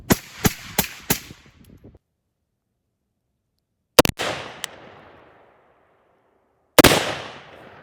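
Gunshots through a Silent AF Vigilantis suppressor on an outdoor range: a quick string of four sharp cracks, then two single shots after pauses, each followed by a fading echo, loud and close.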